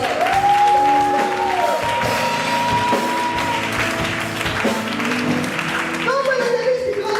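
A French-speaking church congregation claps to acclaim the Lord, steady applause running throughout with voices and a sustained tone layered over it.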